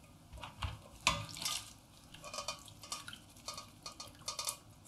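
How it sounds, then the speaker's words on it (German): Blanched maple leaves being drained through a sieve in a home kitchen, with water splashing and trickling and a few clinks and scrapes of the strainer over the sink, close and moderately quiet. "also 2 bis 3 Minuten blanchieren und dann tun wir es abseihen."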